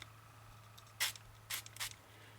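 A spray bottle of colour with its locking catch removed gives three short hissing spurts a half second apart, close and fairly quiet over a low steady hum.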